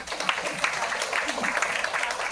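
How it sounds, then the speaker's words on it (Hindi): An audience at an academic NLP session gives a steady, moderately loud round of applause, a dense patter of many hands continuing without a break. "तालियों की गड़गड़ाहट के साथ हम"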